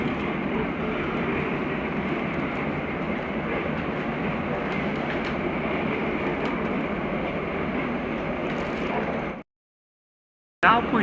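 A train rolls along its rails in Hong Kong with a loud, steady rumble and a constant roar that runs nearly the whole time, then cuts off briefly before resuming.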